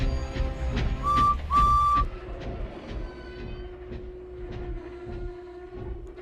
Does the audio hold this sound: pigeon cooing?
no